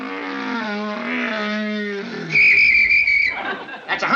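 A man in a sitcom scene imitates a hummingbird call with his voice, starting with a low humming tone and then switching to a loud, sustained high whistle, with a brief rustle at the end.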